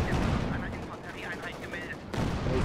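An M36 tank destroyer fires its main gun in Company of Heroes 2, a loud booming shot with battle noise that resurfaces sharply near the end, while a voice talks over it.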